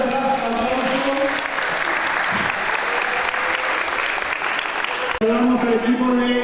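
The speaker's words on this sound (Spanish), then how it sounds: "Con ustedes, aplauso." An audience applauds athletes at a basketball event, dense, loud clapping that swells for several seconds, with a voice talking over the start and speech resuming near the end.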